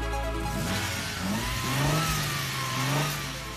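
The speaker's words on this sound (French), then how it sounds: "Le moteur claironne dans tout l'habitacle et à travers l'ancienne abbaye de Notre-Dame du Lys." A vintage Fiat Dino's V6 engine revs loudly inside the cabin, rising and falling through throttle blips in an old abbey setting, close and dominant with no talking.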